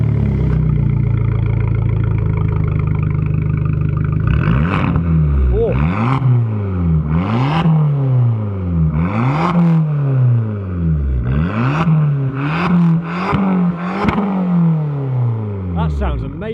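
An Abarth 595 Series 3 engine heard from outside idles, then is revved repeatedly in sharp rising blips that fall back each time, loud and close, with people talking over it.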